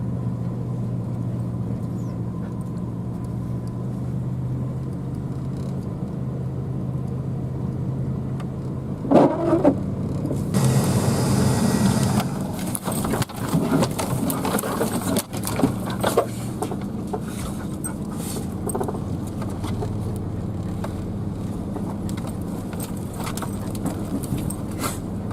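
A steady droning heater fan hum runs inside a truck, interrupted midway by some rattling and clunking handling noises.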